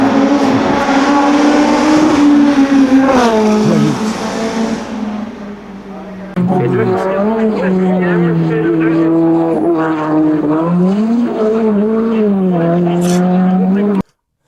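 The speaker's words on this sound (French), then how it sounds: "Oh, le freinage." Loud, close engine of a hill-climb race car, revving and then dropping in pitch as it brakes hard, pausing briefly before climbing through the gears again, with voices talking over it.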